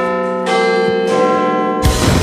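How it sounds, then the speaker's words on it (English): A bell rings out loudly and close, its bright sustained tone swelling in a few strong pulses with long ringing overtones, alone with no talking. "The bell's ringing."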